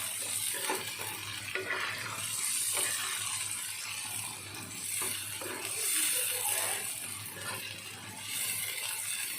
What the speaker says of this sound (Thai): ทอดไปเรื่อยๆนะคะทอดไปเรื่อยๆคนไปเรื่อยๆเนาะ